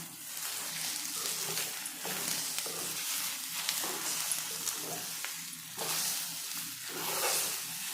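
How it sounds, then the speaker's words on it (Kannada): Sprouted green gram and egg masala fry stirred slowly in a pan over low heat, a steady close sizzle with soft scraping strokes running throughout, no voices. "ಈಗ ನಿಧಾನಕ್ಕೆ ಮಿಕ್ಸ್ ಮಾಡ್ಕೊಳ್ಳೋಣ."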